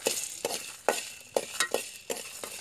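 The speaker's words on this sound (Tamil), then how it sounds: "எண்ணெய் ஊற்றி வறுக்கல, நான் சும்மாவே அப்படியே வறுத்துக்கிறேன்" Three dried red chillies dry roasting in a pan without oil, a spoon scraping and clinking against the metal in a steady rhythm of about six close strokes.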